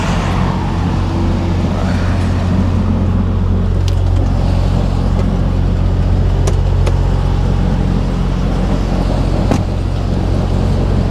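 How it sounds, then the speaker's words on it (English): A truck rolls along the road in a steady, loud, low rumble of engine and tire noise, with faint clicks and knocks over the drone, heard from inside a vehicle. "So there's a truck coming."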